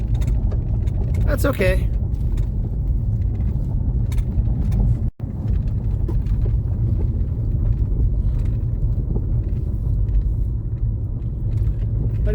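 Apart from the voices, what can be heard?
Ford Focus car driving slowly on a gravel road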